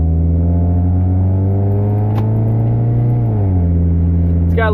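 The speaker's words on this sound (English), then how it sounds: "First test drive on the big wheels." A lifted Honda CR-V on big wheels drives along with a loud, steady engine drone that dips as it shifts, plus a brief click near the end.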